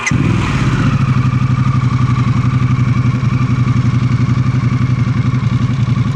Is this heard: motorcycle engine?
yes